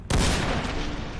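An explosion in the video game Fallout 4 erupts suddenly with a loud, broadband boom that hits at once and rolls on as a sustained rumble with no talk over it.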